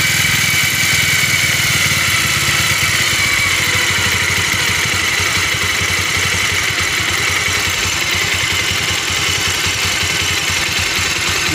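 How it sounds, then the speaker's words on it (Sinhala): A motorcycle engine running after a carburetor clean and flow-screw adjustment, a loud close steady hum at a fast idle that stays even throughout with no clear swells, and no voices. "තේරෙන ඇති ආයි බයික් එක රේස් වෙනවා ඊට පස්සේ අපි ආයි ඇක්සලරේටර් එක අඩු කරනවා"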